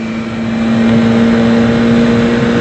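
Loud, steady engine drone of a Tofaş Doğan racing an Opel Corsa on the road, a continuous revving note with a strong tonal hum holding for the whole stretch, close and alone.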